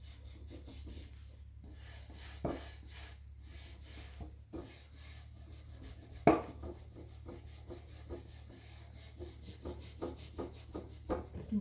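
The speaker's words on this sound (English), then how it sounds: "just dip it in the citrus strip and work away at it until the varnish comes off" Wooden vanity dresser being scrubbed with citrus stripper to lift old varnish: close, rhythmic rubbing and scraping strokes in repeated bursts, with a few sharper scuffs and no talking.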